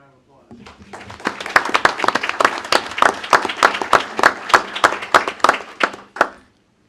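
Audience applause at a county board of supervisors meeting, a small group clapping steadily for about six seconds with sharp individual claps audible, close and moderately loud, before fading out.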